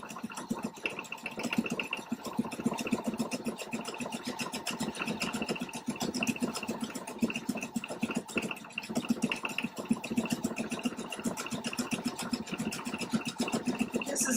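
A Pfaff Quilt Expression 720 sewing machine runs steadily, stitching out a repeating decorative pattern with a continuous fast mechanical whir and rhythmic needle chatter throughout, close and fairly loud.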